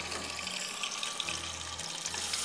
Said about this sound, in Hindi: साथ में मैं थोड़ा सा पानी डाल रही हूँ